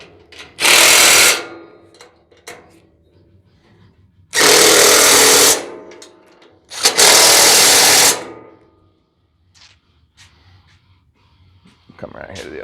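An impact wrench tightens bolts on a welding skid in three loud, roughly one-second bursts, separated by quieter stretches with faint clicks and handling noises.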